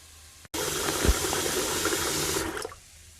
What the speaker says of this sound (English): I have the pot in the sink. I've just added some cold water